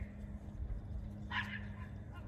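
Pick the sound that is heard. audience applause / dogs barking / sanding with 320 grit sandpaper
dogs barking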